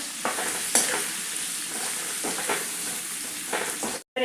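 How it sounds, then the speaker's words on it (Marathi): Brinjal pieces fried in oil over a medium gas flame, a steady close sizzle punctuated by several spatula scrapes and clinks, with a brief cut to silence near the end. "गॅस हा थोडासा मिडियम ठेवायचा आणि तेलामध्ये वांगे छान असे एक मिनिट भर परतून घेऊया"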